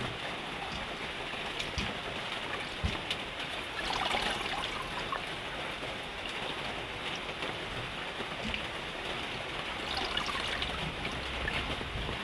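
Water runs steadily while fish are washed, a constant close splashing trickle with small drips and surges throughout, no voices.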